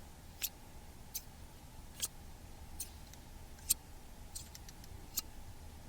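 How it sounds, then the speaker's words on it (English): Quiet, crisp snips from scissors, roughly eight sharp cuts spaced unevenly over a few seconds against a soft, steady background hiss. "prepare yourself, please, for the next pair of scissors"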